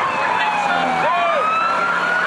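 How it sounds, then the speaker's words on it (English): Police car and ambulance sirens wail as they arrive at a wreck site, loud, near and overlapping, with rising and falling pitch sweeps. "Here come the police and the ambulance into this wreck site."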